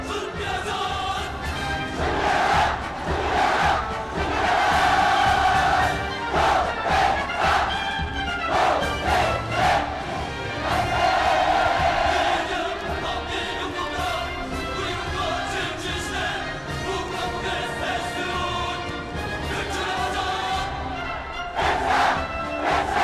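Cheering and applause from a large crowd at a mass dance and torchlight parade on Labor Day in North Korea, a loud, continuous roar that swells and dips in waves over music throughout.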